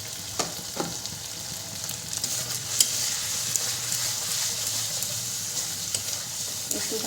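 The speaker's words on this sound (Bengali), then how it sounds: "এবার আমি এটা ভালো করে ভেজে দেবো।" Gravy masala with salt and turmeric frying in oil, a steady bright sizzle with occasional clinks and scrapes of a stirring spoon against the pan.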